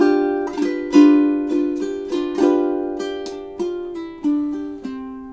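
Ukulele plucking out two measures of a song, about nine clear single notes and chords in an even, unhurried rhythm, each ringing and fading, close and alone without talk.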